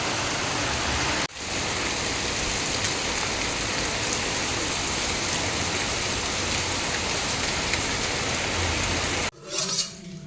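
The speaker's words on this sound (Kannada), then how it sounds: "ಹೊರಗಡೆ ನೋಡಿ ತುಂಬ ಜೋರು ಮಳೆ ಕೂಡ ಸ್ಟಾರ್ಟ್ ಆಯಿತು" Heavy rain pouring down outdoors on an afternoon, a steady, dense wash of drops that stays loud and constant, broken by a brief dip near the start and ending in a short muffled rustle.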